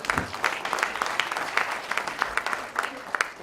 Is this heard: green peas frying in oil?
no